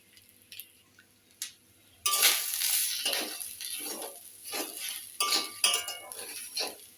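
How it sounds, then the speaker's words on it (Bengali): A spoon scrapes and clinks against a pan as ghee-coated rice with ginger paste is stirred, a series of repeated close scraping strokes over faint background noise. "একটু নাড়াচাড়া করে নেব।"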